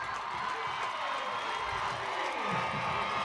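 Panther football fans in the stands cheer a touchdown, a steady wash of distant crowd noise and shouting.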